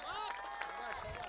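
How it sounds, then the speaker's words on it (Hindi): Applause and crowd cheering from a prize distribution audience, continuous clapping under loud overlapping voices and speech. "तालियां"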